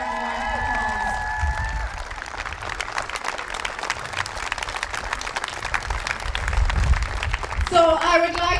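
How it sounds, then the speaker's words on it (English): A crowd at a women's Gaelic football final breaks into sustained applause, many hands clapping in a dense patter that builds slightly, with a few voices and a brief squeal at the end. "So I think that deserves a round of applause."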